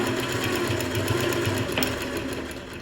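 Sewing machine back-stitching at the start of a blouse seam, a steady close mechanical whir with rapid needle ticking that runs continuously and eases off slightly toward the end.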